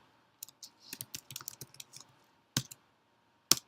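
Typing on a computer keyboard while coding a React Redux project: scattered, irregular keystroke clicks in quick bursts, then two isolated sharper key taps after a pause, close and fairly quiet with no talking.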